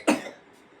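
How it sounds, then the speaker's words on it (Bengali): A single short, sharp cough from a child at a birthday celebration, close by, fading quickly into quiet room tone. "কাশি হচ্ছে"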